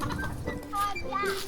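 Chickens cluck in short, close bursts with some background chatter beneath, brief and busy.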